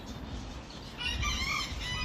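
An Araucana rooster crows once from nearby, a short rising call over a low rumbling background with other fowl around.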